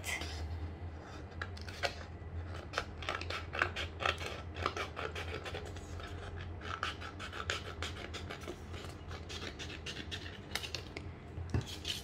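Scissors snip through a leftover piece of craft vinyl while preparing a Cricut Joy project for weeding, giving close, dry scratchy cuts and rustles against a steady low hum, with no talking.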